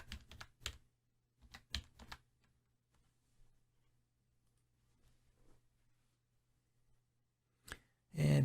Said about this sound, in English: let's type in Sibelius